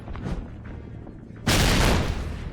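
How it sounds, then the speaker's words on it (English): A grenade blast in an unreleased Xbox 360 shooter clears an apartment hallway, a sudden loud, broad burst that hits after a quieter stretch of game noise and rings on for about a second. "Baker decides to clear the hallway by throwing a grenade."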